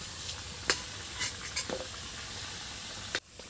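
Potatoes sizzle in oil in a pan for masala khichdi, a steady soft hiss broken by several sharp spatula scrapes and stirs, with a final scrape and a drop in the sizzle near the end.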